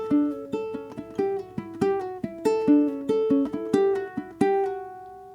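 Ukulele picking the opening four-bar phrase of Scarborough Fair, a two-bar figure played twice: a steady stream of bright plucked notes with a lilting rhythm, close and moderately quiet, ending on a ringing note, with no talking.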